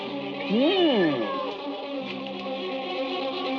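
A cat gives a single clear, drawn-out meow that rises and falls, heard close in a Hindi film scene, followed by a quiet, steady background.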